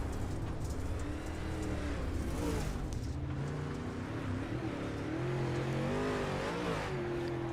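Onboard view of a dirt late model race car at Weedsport in the Pro Late Model Dirt Series, its engine roaring loud and continuous with rising and falling revs throughout.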